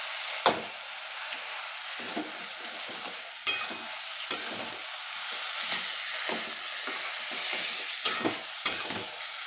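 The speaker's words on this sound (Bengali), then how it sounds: "এবার ভেজে রাখা মাছের মাথাটা দিয়ে দেব। মাথাটাও কচুর শাকের সাথে খুব ভালোভাবে মিক্সড করে নেব।" Fried hilsa fish head being stirred into sizzling taro leaves in a pan, a steady frying hiss broken by repeated scraping stirs at irregular intervals, close and moderately loud with no talk.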